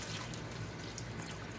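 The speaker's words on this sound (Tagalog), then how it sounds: "Lagyan natin siya ng tubig." Water poured into a cooking pot for sinigang na spareribs, a faint steady splashing stream.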